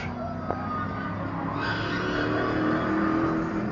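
Race cars roar side by side on a road course, a V8 Camaro and a Ferrari at Waterford Hills Big Bore Bash, steady loud engine drone with a brief sharp tick near the start and rising intensity toward the end.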